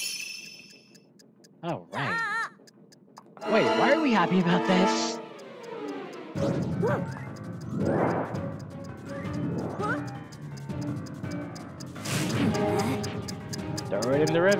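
A bomb ticks in the Princess Peach: Showtime! video game, its steady clicking mixed in with game music and sound effects while a player talks over it.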